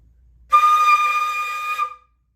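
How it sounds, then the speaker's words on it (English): Flute sounding a high D natural with unfocused, excess air, a breathy, airy sustained tone with a hissy edge, held for about a second and a half, close and alone. "It just sounds like I blew a bunch of air into the flute."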